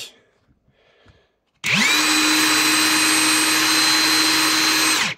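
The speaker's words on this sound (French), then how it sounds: "je vais vous montrer sur la clé à choc, le gros modèle" A large cordless impact wrench spins up and runs free with no load, a loud steady whine with a rising pitch at start-up, preceded by faint background noise before the motor kicks in.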